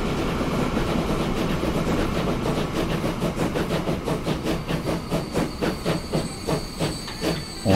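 Train rolling into a station in Transport Fever 2, with a steady hiss and rumble giving way to a rhythmic clickety-clack of wheels over rail joints that quickens and grows sharper, with no voices.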